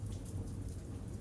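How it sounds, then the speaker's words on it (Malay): Steady rain falls with low thunder rumbling beneath it, a short, dense wash of sound heard alone. "Sekarang sedang hujan"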